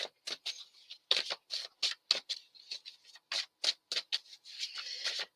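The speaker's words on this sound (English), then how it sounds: "Sloppy shuffle." Playing cards are shuffled loosely and a little sloppily, giving a rapid run of sharp riffling flutters and soft slaps in close, quiet bursts.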